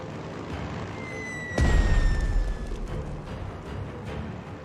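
A single deep bomb explosion in a WWII Pacific strategy video game bursts out over steady background noise, its low rumble fading over a couple of seconds while a high whistling tone trails off.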